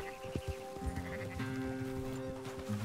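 Repeated sheep bleats over a busy bed of Red Dead Redemption 2 game music and rhythmic sound effects, the calls wavering and fairly close.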